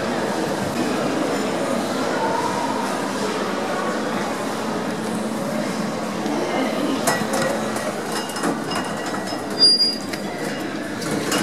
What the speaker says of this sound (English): And now along to another little hydraulic Schindler lift,